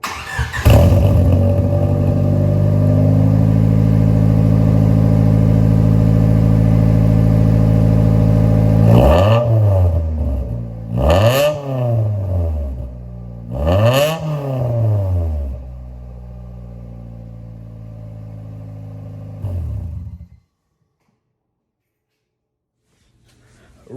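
A car engine cranks and catches, idles loudly, then is revved three times in quick succession with rising and falling pitch before settling and shutting off near the end; recorded close in cold weather.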